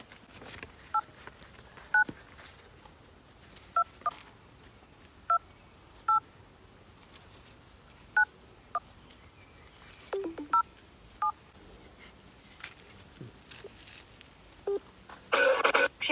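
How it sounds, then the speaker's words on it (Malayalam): A phone number is keyed in as a series of short, clear DTMF beeps, spaced irregularly one after another over a quiet background, with a slightly longer tone at the end; no one speaks. "ഇങ്ങിതാ ആ നമ്പർ ഞാൻ അടിച്ചു നോക്കട്ടെ"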